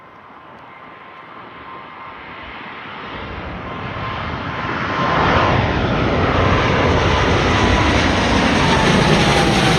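A departing airliner passes overhead at Gatwick airport, its jet roar building from a distant rumble into a loud, broad, close wash of engine noise that sustains to the end.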